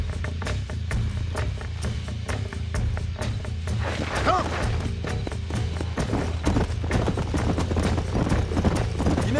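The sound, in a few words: horses galloping in a video game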